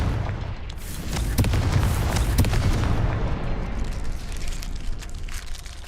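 Confringo fire spell bursting in Hogwarts Legacy, a deep booming explosion with crackling fiery rumble, a few sharp hits early then a fading roar.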